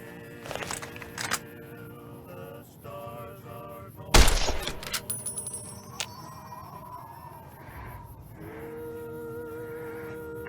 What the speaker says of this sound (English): So now it looks like we're doing shooting.